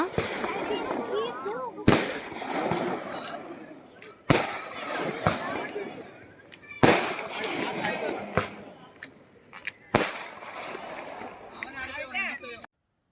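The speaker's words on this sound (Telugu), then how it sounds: "ఇక్కడైతే బాంబుల పటాసులు అయితే పేలుస్తున్నారనమాట." Firecrackers burst at a goddess idol immersion procession, with about seven sharp, loud bangs at irregular intervals over constant crowd chatter and nearby voices.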